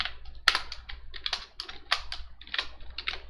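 Code is typed on a computer keyboard in quick, uneven clusters of close, crisp key clicks, with short pauses between the bursts and no talking.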